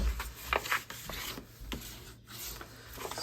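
Designer series paper being burnished by hand for a papercraft bag, soft close rubbing and scraping strokes in an irregular rhythm, quiet and without talk.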